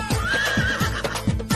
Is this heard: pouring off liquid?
no